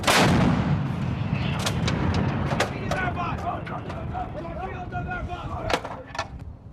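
Marines' M777 towed 155mm howitzer live fire outdoors on an exercise: one loud, booming blast at the start that rolls away into a long fading rumble, with sharp clanks and voices calling out afterward.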